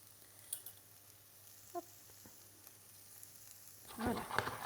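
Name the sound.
straw potatoes frying in a pan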